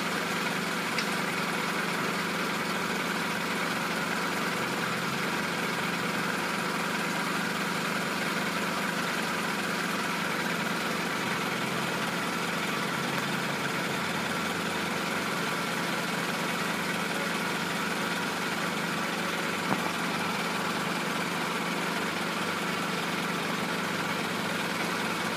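A 1999 Toyota Camry with a 2.2 engine idles steadily at close range, an even low rumble with no talk.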